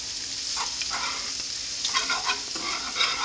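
Flour is stirred into hot sausage grease for a roux, giving a soft, steady sizzle with light scraping and stirring strokes, quiet and close, with no voices.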